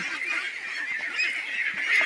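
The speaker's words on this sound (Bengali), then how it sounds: "এখানে 1050টি হাঁসের বাচ্চা রয়েছে" Crowded ducklings on a large duck farm give a continuous bright chorus of high peeping and honking calls, close and steady, with no voices.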